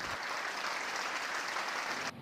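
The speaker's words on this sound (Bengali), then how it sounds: "তার জন্য একটা হাততালি হয়ে যাক" A crowd bursts into steady, even clapping that holds at a constant level and then cuts off abruptly at the end, with no voices over it.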